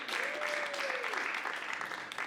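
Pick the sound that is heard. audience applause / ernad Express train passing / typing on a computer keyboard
audience applause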